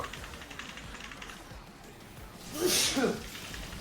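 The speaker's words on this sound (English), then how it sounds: "he fucking made me sneeze" A single short, sharp sneeze bursts out near the end, loud and close, after a stretch of quiet background and faint typing-like taps.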